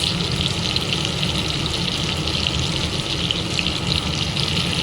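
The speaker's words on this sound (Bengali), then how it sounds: "এখানে একটু কাতল মাছ ভেজে নিচ্ছি 2 পিস।" Pieces of katla fish frying in oil reused from frying hilsa, giving a steady, dense sizzle that holds at an even level the whole time with no talk.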